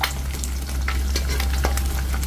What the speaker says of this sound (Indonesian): Sebagai contoh saya akan menggoreng telur.